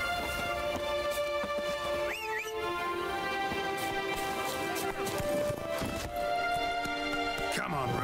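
Roach the horse gallops in The Witcher 3 on Skellige, rhythmic hoofbeats running steadily under a busy bed of game music and ambience, with occasional voices and effects.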